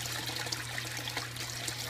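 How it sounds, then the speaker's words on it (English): Water siphons out of a basement aquaponics tank in a steady, soft trickle and gurgle, with a low constant hum beneath it and no talk. "that's the siphoning action kicking in"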